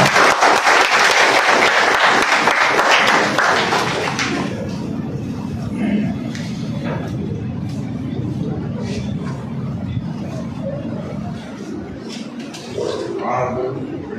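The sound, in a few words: audience applause welcoming a speaker at a seminar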